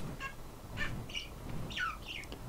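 Faint, thin chirping calls of an Argentavis, a giant bird in the game ARK: Survival Evolved, come in several short separate bursts over a quiet hiss.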